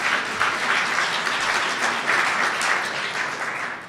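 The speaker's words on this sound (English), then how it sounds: "Applause." An audience applauds at an event in Iowa, a dense, steady wash of clapping from many hands that fades slightly at the end, with no speech over it.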